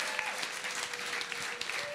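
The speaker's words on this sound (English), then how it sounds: "please give a round of applause to everyone" Audience applause at a coding bootcamp demo day in Berlin, a steady crowd of clapping hands filling the room with some voices mixed in, continuous for the whole stretch.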